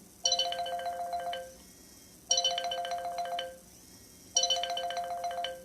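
A telephone ringtone rings three times in a repeating pattern, each bright electronic burst lasting about a second and a half and followed by a short pause, loud and close with no talking.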